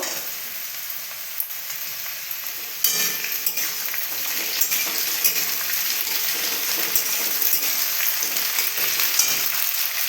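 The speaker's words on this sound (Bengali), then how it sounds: "বিনস আর গাজর একটু ভাজা ভাজা হয়ে এলো এবার ক্যাপসিকামগুলো দিয়ে দেবো" Beans and carrots frying in a pan with capsicum, a steady crackling sizzle with scattered sharp pops and a louder burst near the start, no voices.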